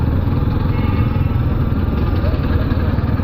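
A Suzuki Gixxer motorcycle engine runs with a steady low rumble as the rider shifts gears. It is close and continuous, with a faint voice mixed in.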